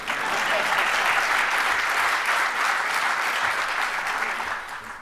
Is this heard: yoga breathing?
no